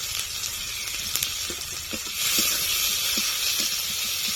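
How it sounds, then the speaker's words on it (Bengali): Steady hissing sizzle of chopped onions frying with cumin and a little tomato in a hot pan, with a few light scraping clicks of a spatula. "পেঁয়াজটা ভালো করে ভেজে নেব"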